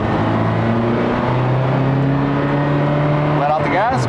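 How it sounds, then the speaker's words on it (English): A Pontiac Fiero accelerates from a standstill as the clutch is let out, a close, loud, steady engine note climbing gradually, with a voice talking over it. "Give it a little bit of gas while simultaneously slowly letting out the clutch."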